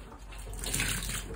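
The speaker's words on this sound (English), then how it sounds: "And so let's rinse it off." Tap water runs steadily into a sink while something is rinsed during cleaning, a soft, even rushing splash heard close by without speech.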